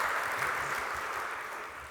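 A conference audience at the CSUN Assistive Technology Conference keynote cheering and applauding, a steady, dense wash of clapping and cheers from a large crowd that holds for the whole stretch without pause.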